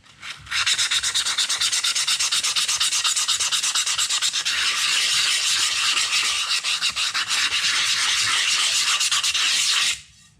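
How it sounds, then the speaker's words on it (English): A motorcycle engine protection panel surface is scuffed with an abrasive, giving a loud, steady rubbing rasp that goes on for about nine seconds close up, then stops abruptly. No one speaks. "So I'm just going to give it a bit of a scuff and help that out there."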